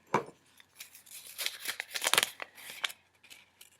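Paper raffle entries are mixed up by hand in a container, making close crinkly rustling bursts and shuffling scrapes over a few seconds with no talk.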